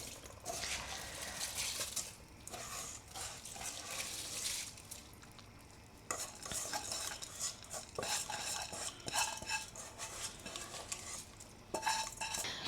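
Washed rice is tipped into a pot of pepper sauce and stirred, with a spoon scraping and clinking against the pot in quick, repeated strokes and wet, sloppy shuffling underneath. It is close and fairly quiet, with no talking.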